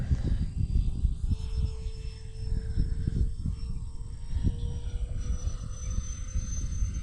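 An FMS A-10 V2 RC model jet flies overhead with a steady whining, whooshing ducted-fan drone that holds a constant pitch and slowly shifts, loud and continuous, with no talk.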